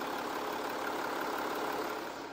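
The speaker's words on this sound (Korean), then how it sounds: "이 정도의 휘발유 엔진 정도의 엔진 소음 만나보실 수가 있는 차량입니다" A used Audi A7 3.0 TDI quattro diesel idles with the engine bay closed, giving a steady, smooth, quiet hum with no change in level.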